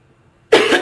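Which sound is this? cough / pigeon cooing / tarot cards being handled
cough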